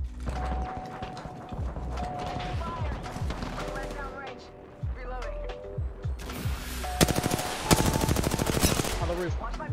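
Gunfire in the video game Apex Legends comes as rapid automatic bursts and sharp single shots, with clicks and clanks of weapon handling in between. It is loud and gets louder near the end, and a voice talks over part of it.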